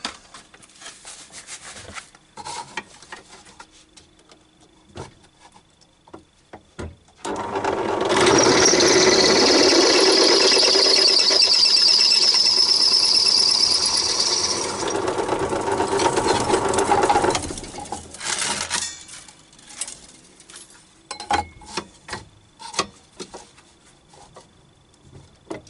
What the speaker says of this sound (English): Drill these out to the size that I want.